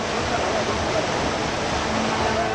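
Loud, unbroken roar of rushing floodwater after heavy rain in Kathua, Jammu and Kashmir, a dense churning wash with no breaks, close and overwhelming.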